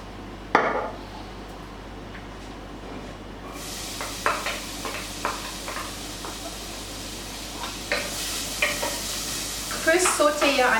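Onion sautéing in hot olive oil in a pot for shakshuka, a steady sizzle with repeated scraping stirs and clinks of a utensil against the pot, close and moderately quiet.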